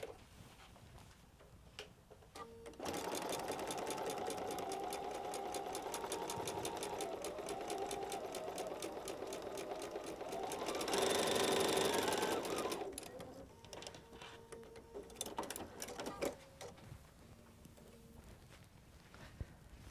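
A sewing machine stitches a quarter-inch patchwork seam for a quilt block, a rapid steady whirring hum running about ten seconds up close, briefly speeding up near the end before stopping, followed by a few handling clicks.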